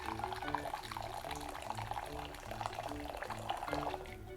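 Boiled water pours steadily into a glass bowl for Jello shots, a continuous splashing gurgle up close with faint ringing tones underneath.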